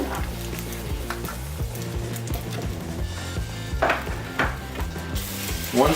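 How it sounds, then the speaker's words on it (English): Eggs scrambled in a pan over medium-low heat, a steady close sizzle with occasional scraping and stirring clatter against the pan, no voices. "with our eggs, just scramble these up just for a minute"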